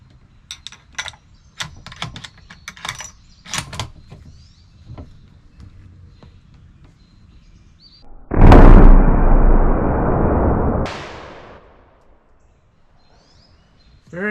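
A single loud, close rifle shot from a Tikka TX3 in .308 at an outdoor shooting range, with a long rumbling decay, preceded by light clicks and handling noises of brass and gear.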